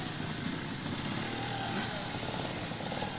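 A small gas combustion trials motorcycle runs at an outdoor trial event, its buzzing engine steady and loud throughout the short stretch, with no clear pauses.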